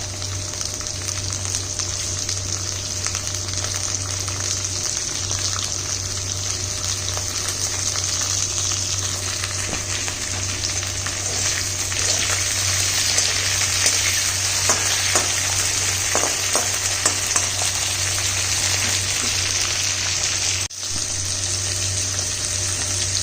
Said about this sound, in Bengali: ভাজা ভাজা মতন করে এবার দিয়ে দিচ্ছি